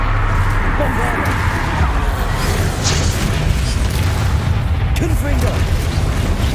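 A Bombarda explosion spell cast in the Hogwarts Legacy video game, a continuous heavy rumbling boom with blasts and crackle layered over game combat, loud throughout, with brief voiced effort sounds.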